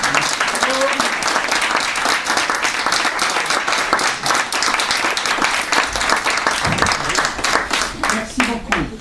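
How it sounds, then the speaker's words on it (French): A concert audience claps for a choir after a Telethon 2014 performance, a dense steady round of applause filling the room for the whole stretch, with a voice briefly audible over it near the end. "Je vous demande de les applaudir encore une fois."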